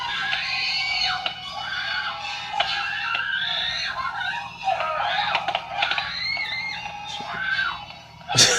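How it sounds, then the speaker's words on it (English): A woman shrieks and screams repeatedly in a horror film slasher scene, high wavering cries rising and breaking over several seconds, loud and close, with scuffling underneath. "She's just literally kicking and screaming."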